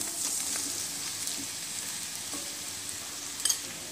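Taro leaves are stirred into frying onions in a pan, giving a steady soft sizzle with light scraping stirs and a brief clatter near the end.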